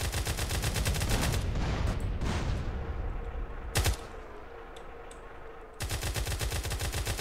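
Rapid bursts of automatic gunfire in GTA multiplayer, loud and dense, break off for a few seconds with scattered shots, then resume in a steady rattling stream.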